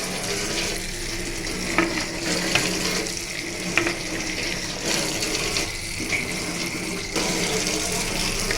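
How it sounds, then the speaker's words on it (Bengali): A plate being rinsed under a running kitchen tap, a steady wash of water with scattered clinks and splashes, fairly close and continuous with no talk. "তো এখানে আমি আমার বড়মশাইয়ের প্লেটটা একটু ধুয়ে নেবো"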